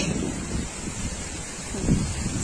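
Strong wind blows steadily outdoors, a dense rushing roar with low rumbling gusts that swell near the end, close to the microphone and with no voices.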